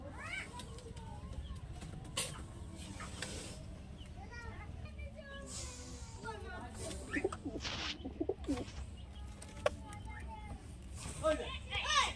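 Green and steel pigeons coo softly in the background among other faint bird and animal calls, with a steady low hum throughout.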